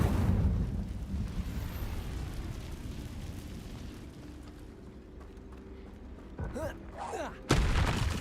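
Incendio fire spell cast in Hogwarts Legacy, a rumbling, roaring blast that swells at the start and fades into a low burning wash, followed by a couple of sharper bursts near the end.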